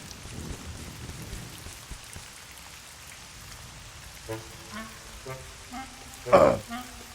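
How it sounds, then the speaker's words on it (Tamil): Heavy rain in a Bablu Dablu cartoon, a soft steady hiss of falling water with occasional splashes, a short loud burst near the end and brief voices between. "மழை வர போதுடா தம்பி சொல்லி வாய் முடியல அதுக்குள்ள வந்துருச்சு"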